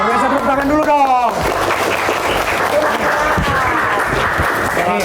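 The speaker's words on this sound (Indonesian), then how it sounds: "Tepuk tangan dulu dong." Schoolchildren in a classroom burst into applause, a dense spell of clapping after a brief burst of voices, with chatter and talk continuing over the claps.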